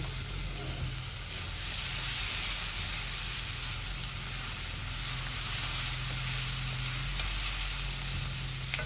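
Malabar spinach (pui shak) fries in hot oil for a vegan curry, producing a steady, dense sizzle with faint stirring, close and continuous throughout with no speech.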